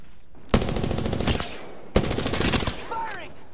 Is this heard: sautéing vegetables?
no